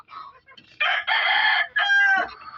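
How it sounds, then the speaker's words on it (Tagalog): A rooster crows loudly nearby, a drawn-out, strained call in a few rising and falling segments, with faint voices just before it. "manok manok guys oh"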